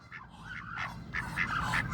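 Ducks at a pond quack repeatedly in short nasal calls, several birds close by, with a low background rumble and no talking.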